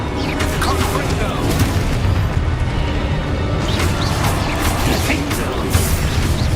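A Confringo blasting spell explodes in Hogwarts Legacy amid loud, dense booming combat noise that runs throughout, with voices heard over it.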